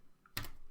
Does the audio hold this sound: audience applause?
no